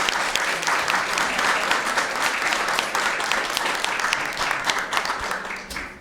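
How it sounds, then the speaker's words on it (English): Crowd applause at an environmental justice caucus launch, sustained dense clapping that stays strong for several seconds before gradually thinning at the close. "give her a big round of applause"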